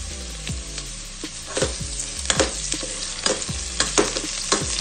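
Ginger added to browned onion frying in a pan for ginataang tilapia, a loud continuous sizzle with repeated scraping and clattering stirs close by, and no voices.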